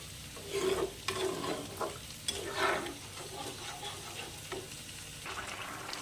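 A vegetable curry of prawns, Malabar spinach and pumpkin being stirred in a pan after warm water goes in, with a soft, quiet sizzle broken by a few scraping strokes of the spatula.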